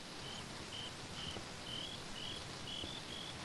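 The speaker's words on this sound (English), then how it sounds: "Why are there crickets down in here?" Crickets chirp inside a cave in Minecraft, about eight short, evenly spaced chirps over a constant hiss of ambient noise.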